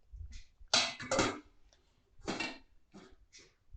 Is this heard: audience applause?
no